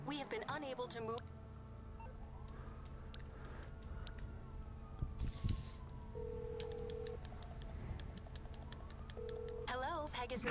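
An ambulance siren wails in Grand Theft Auto V on PS4, a wavering electronic tone rising and falling in short bursts amid game sounds, keyboard-like clicks and engine noise.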